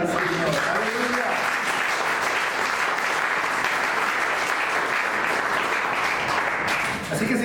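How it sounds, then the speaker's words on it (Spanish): A church congregation applauds, answering a call to give an offering of applause to the Lord, with dense, sustained clapping that fills the room for several seconds at a steady, loud level, with voices mixed in. "Den una ofrenda de palmas al Señor."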